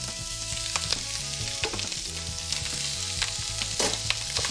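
Shrimp fry in oil in a pan with a steady, close sizzle throughout, broken by occasional light clicks and taps from stirring, with no voices.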